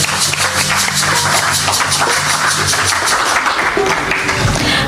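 A book-launch audience gives a round of applause for Mr. Fanes, dense steady clapping from many hands filling the room without pause.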